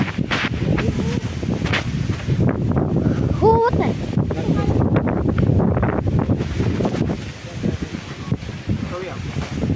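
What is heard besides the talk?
wind blowing into microphone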